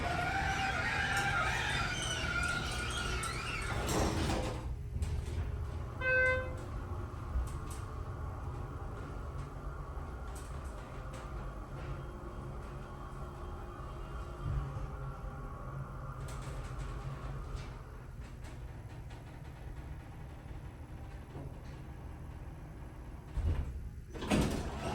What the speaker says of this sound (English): Listen to how obnoxious that door squeaking is.